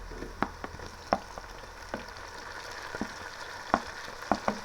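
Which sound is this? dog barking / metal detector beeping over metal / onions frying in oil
onions frying in oil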